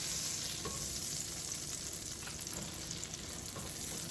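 Crab roll buns toasting in butter in a pan, a steady soft sizzle with faint scraping as they are moved around, close and continuous.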